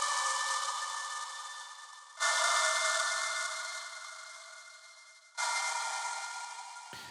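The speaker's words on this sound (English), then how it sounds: "This makes that floor noise sound like this." Buzzy, dusty floor-noise texture from a Whispering Strings preset, a bright hiss with faint tonal lines that swells in sudden bursts and slowly fades, retriggered twice before cutting off.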